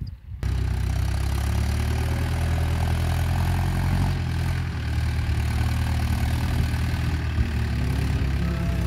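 A tractor engine idles steadily on a Rajasthan farm during the moth bean harvest, a continuous low mechanical rumble held at a constant level, close by and without speech.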